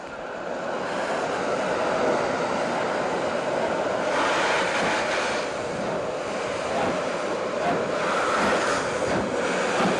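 A post-war D-52 steam locomotive hauls the midday express from Surabaya toward Jogja, a loud, constant rushing roar of the running train with rhythmic rumble and no pause.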